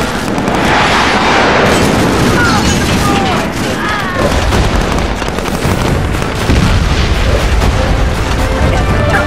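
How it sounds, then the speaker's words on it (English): Airstrike explosions in the video game SOCOM 4 boom heavily and continuously, loud and dense with rumbling blasts and crackling debris, overlaid with radio-style voice chatter. "Airstrike en route."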